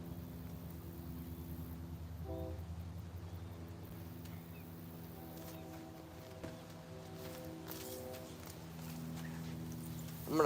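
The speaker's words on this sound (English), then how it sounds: "Another train? Come on." A train passing near an outdoor fishing spot on a hot day: a steady low rumble with sustained tonal droning that shifts partway through, heard at moderate distance with no voices.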